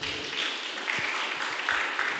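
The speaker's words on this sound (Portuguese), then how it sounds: "Aplauda o Senhor Jesus." Congregation applauding during a church class on evidences of new birth, a steady, moderately distant wash of clapping with a few louder individual claps, no voices on top.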